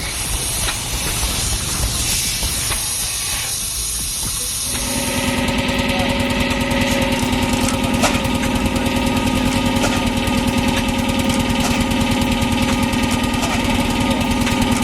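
An old Bessemer 50 HP stationary engine from the early 20th century runs steadily, a loud continuous mechanical drone with hiss that swells and settles into a constant, even roar after a few seconds.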